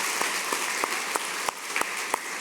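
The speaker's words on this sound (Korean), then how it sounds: "우리 하나님께 영광의 박수" Applause from a church congregation at a Sunday worship service in Korea, a steady wash of clapping with sharper individual claps standing out at a fairly even rhythm, moderately loud and with no talking over it.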